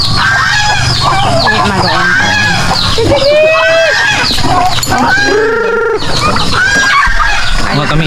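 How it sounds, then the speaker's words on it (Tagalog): A flock of turkeys on a small Philippine farm gobbles and calls repeatedly, loud and close, mixed with other poultry clucking. A person talks over the birds at times. "Ayun, yung mga pabo."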